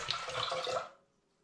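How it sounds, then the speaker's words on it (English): Pear must pours out of a glass demijohn in a short, gurgling splash that runs for under a second and then stops, leaving near silence. "So I'm just going to pour a little bit out of here."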